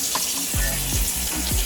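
Tap water runs steadily into a kitchen container, a continuous wash of splashing with a few low thuds as the vessel shifts, set up for rinsing chicken with vinegar and lime.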